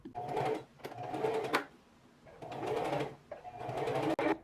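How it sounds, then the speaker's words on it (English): A sewing machine zigzag stitching swimsuit fabric runs in several bursts of rapid mechanical stitching, pausing briefly between runs, close and fairly loud. "take it to our sewing machine where we're going to do a zigzag stitch to attach it"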